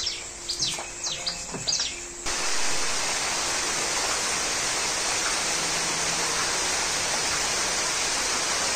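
Rain falls outside a village house in the Konkan region as a steady, broadband hiss. A few bird chirps sound before the rain settles in, and then the rain continues evenly and loud to the end.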